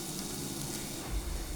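Crushed green chili, garlic and ginger fry in hot oil for a mutton curry, making a soft, continuous hissing sizzle with faint crackles over a brief moment and no voices.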